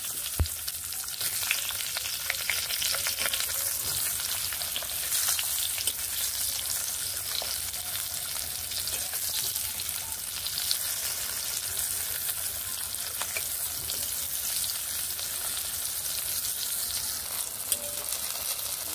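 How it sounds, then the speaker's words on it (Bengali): Sliced eggplant frying in a little oil in a wok gives a steady, close sizzle that runs unbroken throughout, with faint stirring and no talking. "কড়াইতে একটুখানি তেল দিয়ে নিয়েছি। কেটে রাখা বেগুনগুলোকে ভেজে নেব প্রথমে।"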